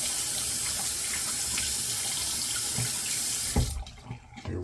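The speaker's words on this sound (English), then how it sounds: "Let's get the razor warmed up and wet." A bathroom tap runs steadily into a sink while a razor is warmed and wetted. The water streams loud and close, then cuts off near the end, leaving brief faint splashes.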